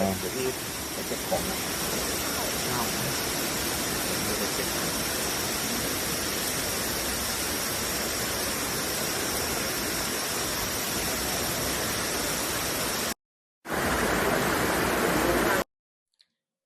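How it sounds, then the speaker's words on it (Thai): Constant broadband rush of a waterfall close to a forest campsite, a loud steady roar that runs unbroken for about thirteen seconds, cuts out briefly, then resumes before ending. "ก็นอน ใกล้ๆน้ำตก บรรยากาศ รอบๆแคมป์ก็จะประมาณนี้"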